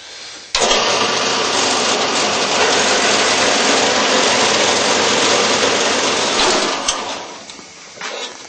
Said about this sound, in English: let's jump over on the bandsaw